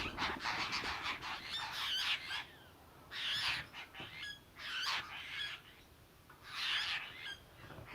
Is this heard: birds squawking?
yes